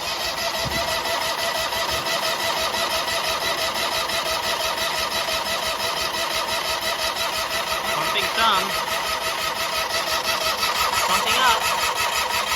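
Big riding mower engine cranking over after a fuel pump replacement, a continuous rapid chugging starter rhythm that keeps turning at steady loudness, with speech over it.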